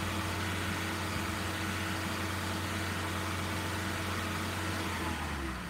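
A car engine held at fast idle during oscilloscope diagnostics, a steady, loud, continuous hum with a low droning tone throughout, no voices.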